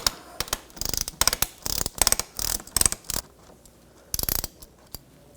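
A ratchet with a 10mm hex socket loosening the transmission drain plug on a 2007-2013 BMW X5, heard as bursts of rapid close clicking separated by short pauses, with no talking.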